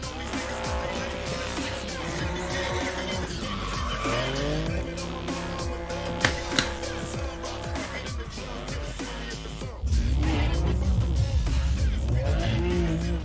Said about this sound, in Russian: Сейчас парный дрифт, возможно, устроит.